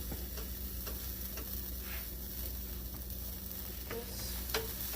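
A ham and cheese panini sandwich toasts in a pan, giving a soft, steady sizzle with faint ticks and light scraping close by.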